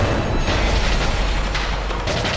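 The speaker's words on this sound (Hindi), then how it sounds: "तोप चलाओ।" A dense, rumbling roar with low booms that swell and fade, like heavy cannon fire blending into a continuous barrage, loud and close.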